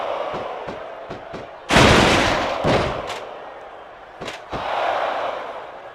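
A wrestler struck with a ladder in a WWE match, one loud crashing impact rising over a roaring arena crowd, followed by a few smaller thuds.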